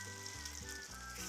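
Latkes frying in a pan, a brief, steady, quiet sizzle of hot oil with no other sounds.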